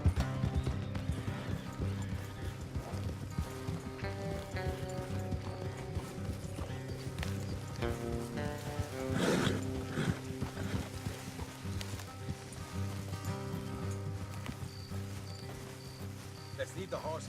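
Horses in the video game Red Dead Redemption II clip-clop at a steady trot under a musical score, with an occasional whinny and a voice speaking over them.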